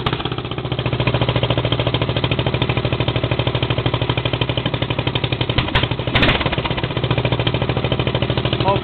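A cold-started engine runs with its throttle held slightly open, a steady, loud, rapid mechanical chatter that continues unbroken throughout, with a brief clunk partway through.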